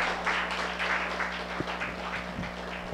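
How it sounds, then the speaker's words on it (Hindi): Audience at a diet and health seminar clapping together, a steady wash of many hands over a low hum, moderately loud and continuous without talk. "तालियां बजाइए"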